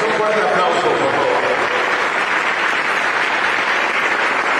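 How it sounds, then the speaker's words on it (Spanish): Audience applause at a book fair in Orizaba fills the room, a dense, steady wash of many hands clapping at close range, loud and unbroken throughout, with no talk over it. "Un fuerte aplauso, por favor."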